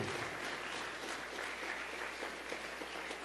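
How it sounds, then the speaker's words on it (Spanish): Applause for the Lord rises from a congregation during a church service, a faint, steady wash of many hands clapping at a distance with no break across the moment. "Dele palmas al Señor"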